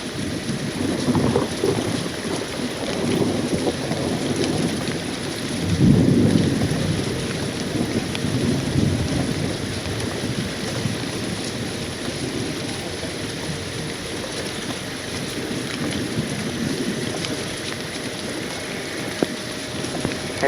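Steady heavy rain hisses throughout a severe storm at Atlanta Hartsfield-Jackson Airport, with a low rumble of thunder swelling briefly near the middle.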